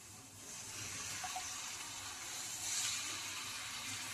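Water pours into a pan of tamarind fish curry, a soft continuous rushing stream, fairly faint and close, with no one talking.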